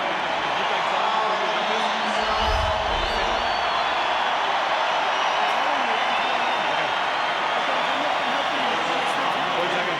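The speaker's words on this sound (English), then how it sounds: "a big cheer from the Wellington faction of the crowd, and that's for Sam Cane" Rugby crowd at an All Blacks versus Wales test in Wellington cheering for Sam Cane, a steady broad roar of many distant voices filling the stadium under a commentator's talk.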